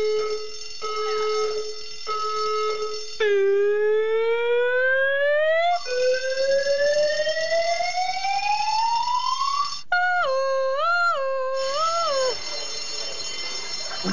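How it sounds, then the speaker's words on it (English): Piercing fire alarm tripped by a smoke machine during a photo shoot, a loud electronic tone that stutters in short bursts, then sweeps upward in long rising wails and warbles, continuous and close with no voices. "The fire brigade came and the fire alarm went off because of a smoke machine."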